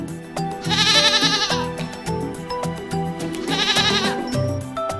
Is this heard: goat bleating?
yes